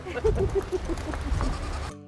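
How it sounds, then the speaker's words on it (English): A goat bleats repeatedly while being walked on a lead at a farm, a series of short nasal calls in quick succession, fairly close, over outdoor background noise. "I'm walking a goat."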